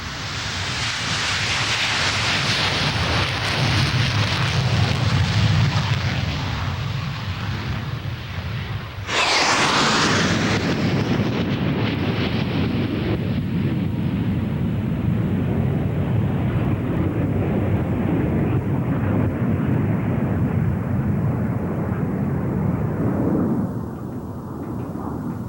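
Hawker Hunter jet fighter at an air show, a loud sustained roar that swells, then a sharp rushing sweep as the jet passes close, followed by a long fading engine rumble.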